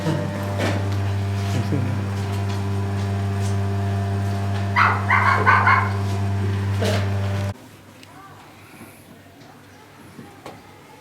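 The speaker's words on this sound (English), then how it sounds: "Where's the dog, Joe?" A dog barks a few times in the courtyard of Chillon Castle in Montreux, Switzerland, sharp yaps over a steady low hum, then the scene drops to a quieter background with faint sounds.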